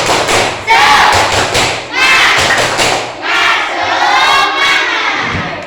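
A class of schoolchildren performs a rhythmic group clapping chant in a classroom, loud and close: sharp hand-clap thuds in a set pattern under shouted group voices, running throughout.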